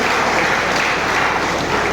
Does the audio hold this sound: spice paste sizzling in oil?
no